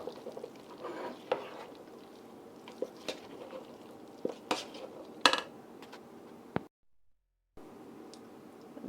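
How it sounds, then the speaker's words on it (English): A sweet potato, apple, cranberry and golden raisin filling is mixed in a bowl with a utensil: scattered soft clinks and squishy scrapes, quiet and close, with a short silent gap near the end. "Thoroughly mix."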